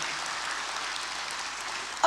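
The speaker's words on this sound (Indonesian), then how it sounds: "Tepuk tangan yang meriah, saudara." A church congregation at a sermon service claps together in a steady, hissing wash of applause that stays fairly even throughout, with a brief louder burst right at the very end.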